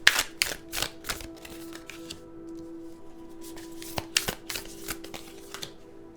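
Tarot cards are shuffled and handled in quick crisp bursts of flicks and riffles, close and fairly quiet, with pauses between the bursts.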